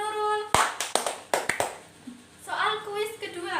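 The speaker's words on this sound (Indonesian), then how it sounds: "Beri tepuk tangan untuk Nurul." A classroom of students claps for a classmate after a quiz answer, with a handful of sharp, uneven claps from a few hands between stretches of speech by a teacher and students.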